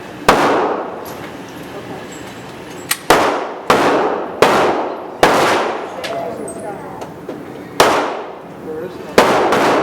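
Gunshots ring out at an outdoor shooting range, about ten sharp cracks in an irregular series, each with a short ringing decay, loud and fairly close, with people talking quietly in between.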